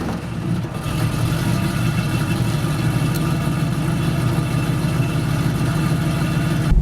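A Chevrolet Camaro engine runs steadily up close, a continuous low idling rumble with no one talking.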